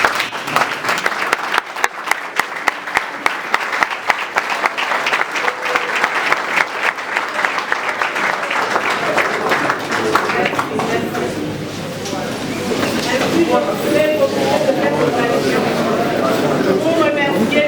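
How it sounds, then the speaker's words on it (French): A standing audience at a political gathering gives applause, with sharp rhythmic claps that blend into dense clapping, followed by a broader crowd roar with voices mixed through it. "qu'on lui donne notre signe de reconnaissance par des applaudissements"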